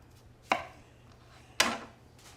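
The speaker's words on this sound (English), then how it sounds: "just grate using the finer side" Sweet potato scraped on the fine side of a hand grater, two sharp raspy strokes spaced about a second apart over a quiet background, with no talking.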